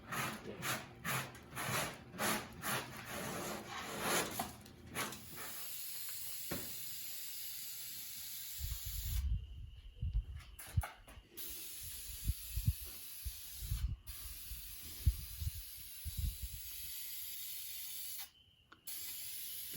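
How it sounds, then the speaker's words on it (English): Spray paint hisses from a rattle can during car bodywork on a Spyder, first in quick repeated short bursts and then in a few longer sprays, mixed with quieter handling noises and pauses. "Gotta love rattle cans."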